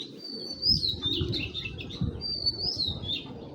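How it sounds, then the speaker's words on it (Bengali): A female pigeon calling, with repeated high chirping calls and soft low coos over a quiet background of other faint bird sounds, close by. "দেখছেন এটা হলো মাদি কবুতর ভাই"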